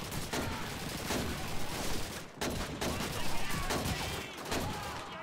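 Rifle gunfire in Call of Duty 2 sounds as dense, continuous volleys of battlefield shooting, with rapid overlapping cracks at a steady, moderately loud level.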